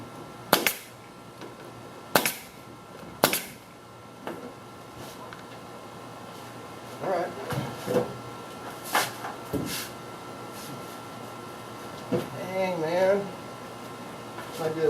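A staple gun fires sharp single snaps at irregular intervals while skin is fastened onto the galley door of a modified Benroy camper. Someone talks between the shots, and softer handling knocks are heard too.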